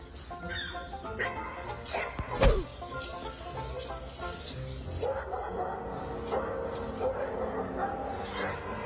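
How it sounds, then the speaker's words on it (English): Two guard dogs trained to defend their property bark amid a busy, music-filled background, with a sharp crash-like hit partway through. "This daredevil didn't count on 2 guard dogs who were trained to defend their property."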